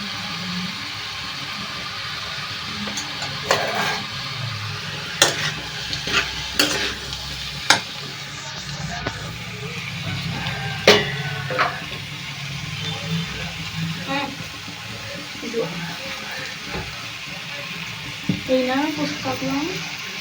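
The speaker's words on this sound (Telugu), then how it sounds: "మనకి బంగాళదుంపలు అయితే ఫ్రై అవుతున్నాయి కదండి" Potatoes frying in a pan with salt and chili added, a steady close sizzle broken by repeated sharp spoon stirs and scrapes against the pan, with a voice talking in places.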